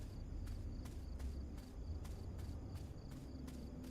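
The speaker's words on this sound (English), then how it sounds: "You got the nice little crickets in the back." Crickets chirp in regular pulsed bursts around a forest fire lookout in the game Fears to Fathom, a faint, steady background rhythm over a low ambient hum.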